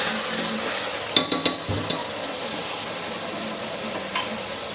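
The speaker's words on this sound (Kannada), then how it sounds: "ಈಗ ಇದನ್ನು ಚೆನ್ನಾಗಿ ಫ್ರೈ ಮಾಡ್ಕೊಬಿಡೋಣ." Tomato rice ingredients fry in a pan with a steady low sizzle, broken by a few sharp scrapes and clinks of a spoon stirring against the metal.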